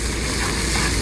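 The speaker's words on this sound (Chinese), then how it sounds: "葱姜蒜、辣椒爆香" Scallions, ginger, garlic and chili sizzle in hot oil in a small seafood pot, giving a loud, dense, unbroken frying hiss throughout the brief moment.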